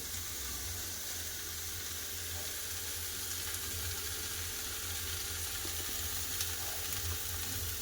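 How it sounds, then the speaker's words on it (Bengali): Chopped ridge gourd, potato and onion sauté in oil, making a steady, even sizzling hiss that carries on unbroken for several seconds at a moderate, close level. "ঝিঙ্গা আলু পেঁয়াজ ভালো করে কষে নেবো"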